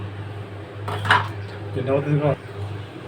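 Metal pot and utensil clatter as lentils with kochur chora and amada (mango ginger) are stirred, two short bursts of scraping and knocking close by over a low steady hum, with no voices.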